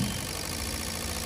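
A fuel injector test bench running and accelerating from around 1,250 RPM, a steady close mechanical drone with a constant hum underneath, continuous and without voices.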